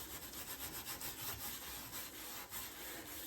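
A greasy stove top is scrubbed with quick back-and-forth rubbing strokes in a steady rhythm, close but fairly quiet, with no talking.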